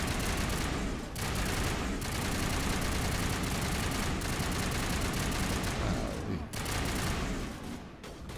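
Dense gunfire in the video game Mass Effect, loud overlapping bursts of shots that continue almost nonstop, with a few brief dips in intensity over a low rumbling background.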